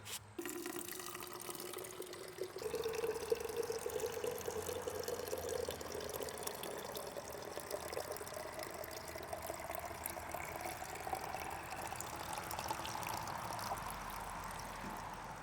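Continuous water running from a tap in rural New Brunswick, Canada, a steady gushing rush that starts after a brief click and carries on evenly, close by with no talking.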